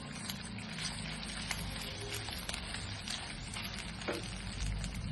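A red chili and garlic thecha being stirred and sautéed in a pan gives a steady, quiet sizzle with soft scraping that runs evenly throughout.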